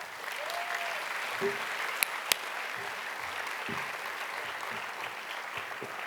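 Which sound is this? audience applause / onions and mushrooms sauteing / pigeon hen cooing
audience applause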